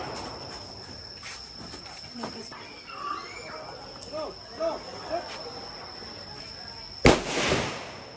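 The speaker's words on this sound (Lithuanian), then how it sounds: "Garselis neblogas, ten šaudo." A single sharp gunshot rings out near the end at a shooting range at the Cu Chi tunnels in Vietnam, following quiet outdoor ambience with a few voices talking in the background.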